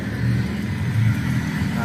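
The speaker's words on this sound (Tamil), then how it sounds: "பாருங்கள் டிராஃபிக் போயிட்டுருக்கு" Road traffic passing by at night outside a Thoothukudi fish curry meals eatery, a steady engine rumble with a car droning past nearby, continuous and moderately loud.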